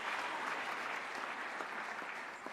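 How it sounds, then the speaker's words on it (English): An audience claps in a steady, dense round of applause at a formal ceremony, sustained and fairly close, with no voices over it. "Can we also give them a big round of applause,"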